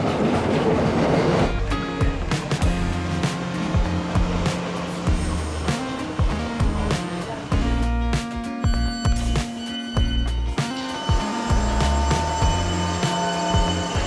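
Train rolling on rails through London near Waterloo East and the River Thames, heard from inside with rhythmic clickety-clack wheel beats, rumbling low noise and occasional metallic squeals, fairly loud and steady with no talk.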